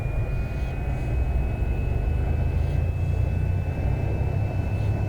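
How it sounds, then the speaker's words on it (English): Cessna 208 turboprop engine spooling up inside the X-Plane 11 flight simulator, a steady loud turbine roar with a sustained high whine held throughout, no voices over it. "Listen to them turbines kick in."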